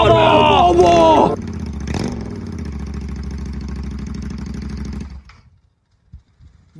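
Royal Enfield GT 650 motorcycle engine running on a straight pipe with no exhaust: a brief, sharp rev at the start, then a loud, close, throbbing idle for several seconds before it cuts off into near silence.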